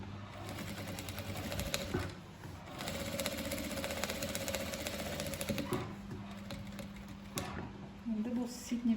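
A sewing machine runs in long steady bursts, topstitching patchwork fabric pieces of an ethnic kurak bag near the seam edge; close and continuous, briefly pausing, with someone speaking over it.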